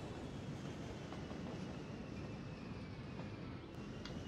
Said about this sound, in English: Look at this. Look at all of the trains along there.